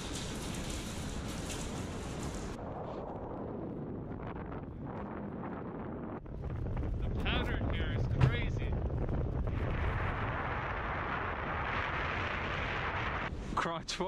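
Strong wind buffets the microphone in a steady roar high up on a structure in the Chernobyl Exclusion Zone, with voices faintly under the rushing noise.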